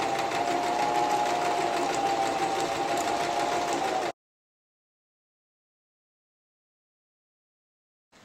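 Steady mechanical whirr of a home sewing machine stitching fabric for preemie baby bibs, running continuously for about four seconds at close range before cutting to silence.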